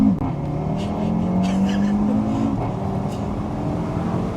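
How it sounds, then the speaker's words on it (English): An Audi RS3 8V pre-facelift hatchback in Nardo Grey revs loudly, its exhaust holding a steady, up-close drone that rises and breaks off partway, with faint crackle pops on the shifts. "And the noise they make, the crackles on upshift and downshift, they're very, very pronounced."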